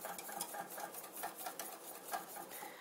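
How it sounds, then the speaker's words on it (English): Cheese sauce for mac and cheese is stirred hard in a pan, and a utensil scrapes and clinks against the metal in quick, uneven strokes, close and moderately loud, with no voices. "as you're stirring it pretty vigorously, you can almost catch glimpses of the bottom of the pan"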